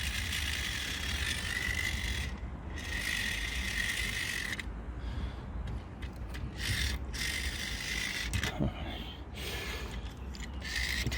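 A small solar-powered gearbox from a kit whirs with a steady mechanical ratcheting buzz that runs continuously at moderate level, with brief dips and interruptions partway through.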